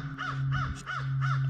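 A crow caws loudly and repeatedly, four harsh calls at a steady rhythm, heard over a constant low engine hum from a John Deere 5200 tractor setting.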